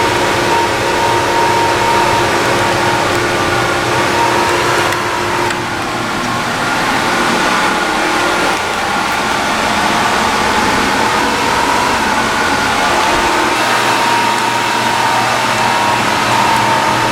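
Transfer pump filling the supercharger blower of a 2002 Ford F-150 Lightning with oil, a loud steady motor drone with a constant hum, running continuously throughout with slight shifts in tone.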